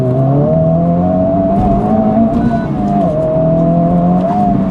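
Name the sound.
Honda Civic Type R FL5 accelerating through gears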